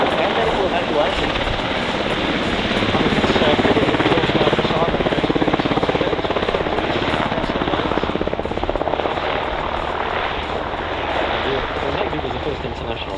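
An MH-60 helicopter flying at an Australian airshow, a loud, steady rotor and turbine roar that fills the whole stretch with continuous throbbing wash, a commentator's voice partly audible beneath it.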